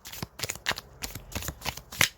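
Deck of tea leaf cards shuffled by hand, a quick run of riffling flutters and soft slaps, close and fairly quiet with no voices.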